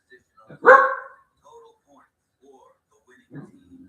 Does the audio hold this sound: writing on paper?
no